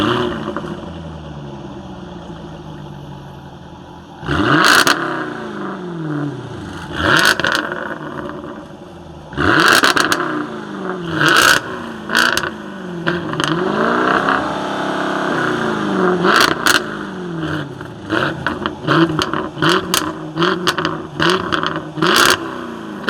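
A 2017 Jaguar F-Type R engine revving through its exhaust in a series of sharp, loud blips that rise and fall, with several short bursts in quick succession toward the end, and no talking.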